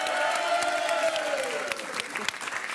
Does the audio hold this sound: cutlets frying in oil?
no